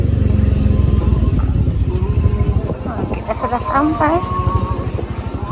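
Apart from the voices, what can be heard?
motorcycle riding and arriving at parking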